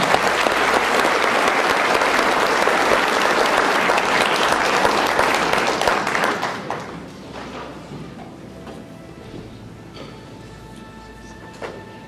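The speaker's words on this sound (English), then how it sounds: "A round of applause, please." An audience applauds a speaker being introduced at a talk, with dense, loud clapping for about six seconds that quickly dies away into a quiet room with a few scattered claps.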